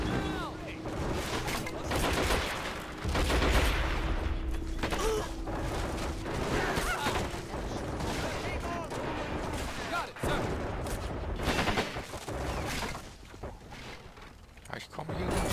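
Bursts of gunfire from the WWII strategy game Men of War: Assault Squad 2 crackle in irregular volleys with mechanical clatter, over a steady game soundscape while someone talks throughout.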